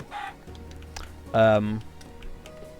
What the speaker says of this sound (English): I did Dipper and Mabel as chickens. that's an imposter chicken